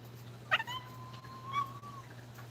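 A house cat meows indoors, with a short sharp cry followed a moment later by a longer, drawn-out meow, both fairly faint over a steady low hum.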